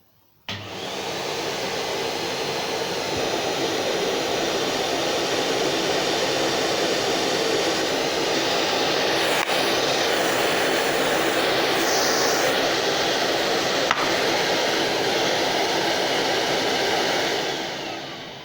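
A Numatic Henry Xtra vacuum cleaner switches on with a click and runs as a steady, even motor roar with airy hiss, then winds down near the end, with no talking.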